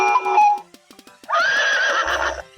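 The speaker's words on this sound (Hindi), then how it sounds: "ये तो घोड़े की आवाज ही है।" A horse neighs loudly nearby, a shrill whinny that trails off, followed by a short pause and a second longer, wavering whinny.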